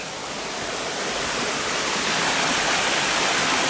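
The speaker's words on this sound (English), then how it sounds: "There's another little creek we've got to get over." A small creek in Strickland State Forest flowing over a trail crossing, a steady close rush of broadband water noise that swells slightly louder through the stretch, with no voices.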